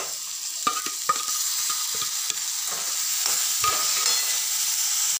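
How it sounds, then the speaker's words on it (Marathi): Roasted gram flour fries with tomato puree in a pan, giving a steady close-up sizzle broken by scattered scraping clicks of stirring, with no voices. "आता आपण त्याच्यामध्ये टोमॅटोची प्युरी घालणार आहोत।"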